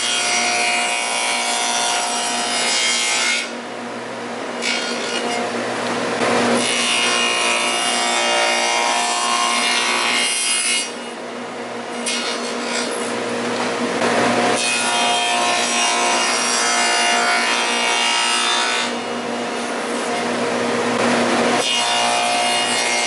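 A wooden tenon is cut by feeding the workpiece backwards against a saw fence. The loud, continuous power-saw cutting noise runs across the whole stretch, easing briefly in a few short gaps between passes.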